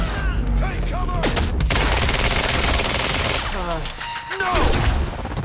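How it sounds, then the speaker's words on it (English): Gunfire in the shooter Quantum Break, a dense burst of rapid automatic shots and booms at close range, with shouting voices breaking in over the firing. "Who's shooting?"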